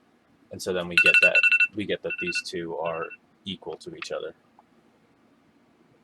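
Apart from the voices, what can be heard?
mobile phone ringing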